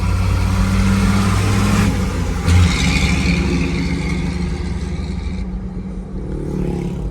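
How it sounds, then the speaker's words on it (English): Heavy traffic with trucks overtaking on a road between Nairobi and Nakuru, a continuous loud engine drone with rumbling passes and shifting revs, heard from inside a moving old Land Cruiser. "The trucks want to overtake on a yellow line."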